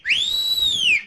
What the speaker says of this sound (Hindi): बजाओ सीटी बजाओ।